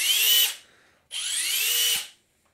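A Hikoki/Metabo HPT driver sinks a self-tapping screw in two close, loud bursts of high whirring, each ending abruptly, separated by a brief pause.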